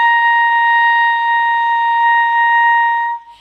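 One sustained high C on a clarinet rings out evenly for about three seconds before stopping.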